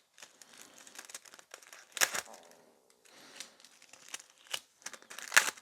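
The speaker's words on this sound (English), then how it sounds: "grab a tiny bit of this gold transfer foil" Gold transfer foil for nail art is handled close up, crinkling and crackling in short bursts with a few sharper rustles.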